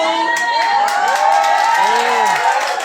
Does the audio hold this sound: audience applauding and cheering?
yes